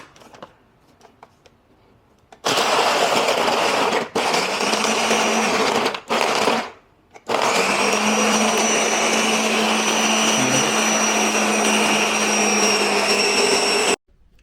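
A blender whirs loudly through a smoothie with peanut butter, running in steady bursts with two brief stops before a long continuous blend, the motor tone constant and close.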